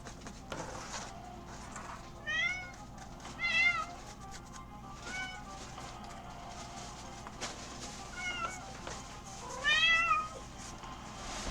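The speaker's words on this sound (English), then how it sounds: "cat is the real star of the show" A cat meows repeatedly, several short rising calls in bursts spaced a few seconds apart, fairly close and clear over a quiet room background.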